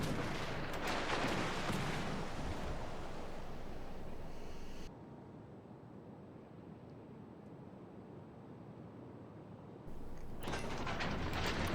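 Secondary guns of a warship firing in the naval video game World of Warships: Legends: rapid booming shots over wind and ocean wash, loud at the start and end with a quieter rumbling stretch in between.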